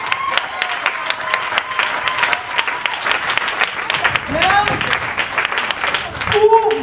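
A church congregation at a Sunday service applauds steadily, a sustained wash of clapping with voices calling out within the crowd.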